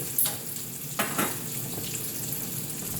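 Bacon crackles in a big skillet, a dense close sizzle with two quick bursts of louder spattering early on, no voices.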